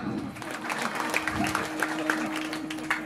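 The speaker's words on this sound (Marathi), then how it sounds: "आता टाळ्या वाजा." An audience at a Marathi devotional kirtan claps in quick, somewhat rhythmic bursts, dense and sustained across the room, with a faint tonal hum beneath.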